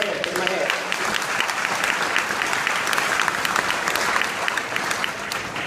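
Loud sustained applause from a crowd at a high school commencement ceremony, dense clapping continuing throughout, with voices mixed in.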